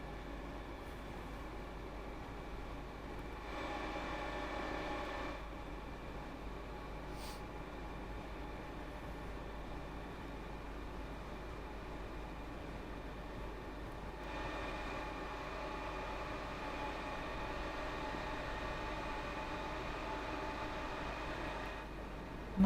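A train passes in the Train Sim World 2 railway simulator on a beach-day run toward Falmer, giving a steady rumbling roar throughout with two louder swells of rolling, humming noise, no voices.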